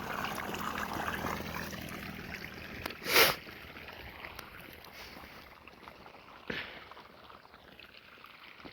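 Irrigation water running through furrows in a wheat field makes a soft, steady outdoor wash and trickle, with a couple of brief louder splashes along the way.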